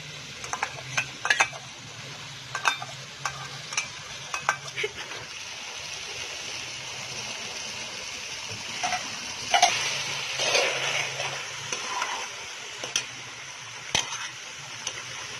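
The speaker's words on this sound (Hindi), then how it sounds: "पाँच मिनट इसे और भूनेंगे ताकि सब्जियां अच्छी तरह गल जाए।" Vegetables for chicken macaroni frying in a pan, a steady soft sizzle under repeated scraping and stirring clicks from a spoon, all close and moderately quiet.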